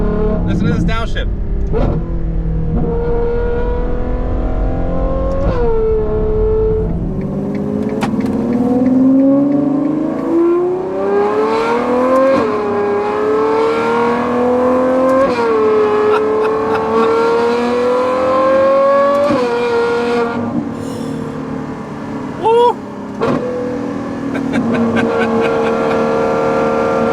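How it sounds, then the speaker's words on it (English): Novitec Ferrari 812 N-Largo running a full straight-pipe exhaust on its front-mid-mounted V12 revs hard and blips through downshifts, its loud, close, tonal wail rising and falling repeatedly under someone talking. "Listen to this downshift."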